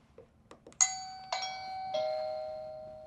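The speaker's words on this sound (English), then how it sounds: "when somebody rings your doorbell, you're gonna hear it on your chime" A Wyze Video Doorbell Pro chime sounds a few soft clicks, then three bright, ringing tones one after another, each lingering and fading out.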